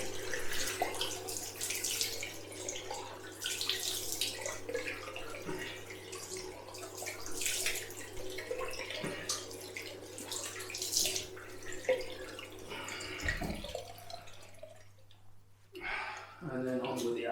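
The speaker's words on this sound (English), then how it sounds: "gonna have a rinse off with cold now." Cold tap water runs during a rinse after a shave, a continuous close splashing flow with faint drips and wet handling, easing off near the end.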